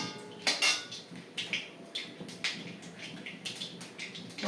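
Mustard seeds spluttering in hot oil, with toor dal, dried red chillies and fenugreek, for a kara kuzhambu: irregular sharp crackling pops and bursts, close by and fairly loud, with no talk.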